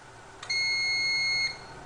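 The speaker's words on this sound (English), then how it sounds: "that long beep tells you that the AirWolf has been set back to default, or it is now unprogrammed" An AirWolf unit being reset to default gives one long, steady electronic beep lasting about a second. The beep is clear and alone, with a quiet background before and after.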